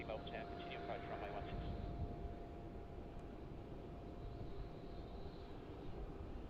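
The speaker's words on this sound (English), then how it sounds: "Now rolling down runway 16." Airliner rolling down runway 16 for takeoff at Melbourne Airport, a steady broadband engine roar that stays loud and continuous throughout, with faint radio chatter and talk over it.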